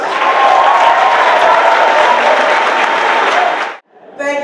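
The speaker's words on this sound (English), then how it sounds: "so let's give her a round of applause." An audience applauds loudly and steadily for several seconds, then the clapping cuts off and a voice begins.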